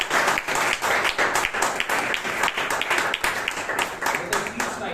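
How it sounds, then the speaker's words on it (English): An audience at a Bangalore Toastmasters club meeting claps to welcome a speaker to the floor, a dense, steady round of applause heard close and alone for several seconds. "with a thunderous round of applause, I request all of us to welcome Toastmaster Amrit"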